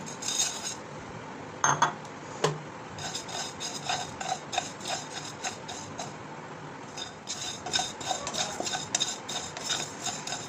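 Cumin and fennel seeds dry-roasting in a pan for a raw mango pickle spice mix, stirred steadily with a metal spoon that scrapes and clinks against the pan close by, with no voices.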